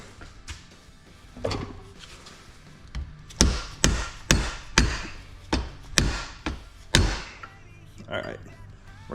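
A hammer strikes a tool to push a shock absorber's seal head down, about eight sharp metallic taps in an uneven rhythm, loud and close, with a few quieter knocks before them.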